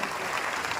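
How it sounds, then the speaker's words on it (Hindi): Crowd applause at a labour union rally, a short steady wash of many hands clapping at a distance, dense and even with no single claps standing out. "इनका जो साथी मन जोरदार तालियां पर आओ बजाओ"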